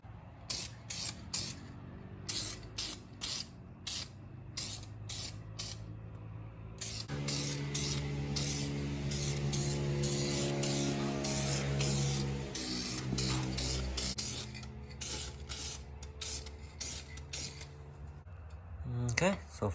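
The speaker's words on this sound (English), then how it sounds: "Test spray." A spray can hisses in a rapid series of short, sharp bursts while painting a car's rear end part, then sprays in one long steady stretch before returning to quick puffs, close by.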